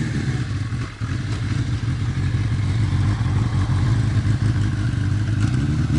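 A 1980 Kawasaki KZ550 LTD motorcycle rides past with a steady, loud mid-range engine drone and throttle changes, holding close and continuous for the whole stretch with no talking.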